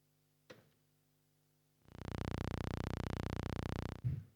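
A modular synth oscillator routed through a filter: a brief blip, quiet gap, then a loud, buzzy sustained tone with a rapid pulsing texture lasting about two seconds before cutting off with a click.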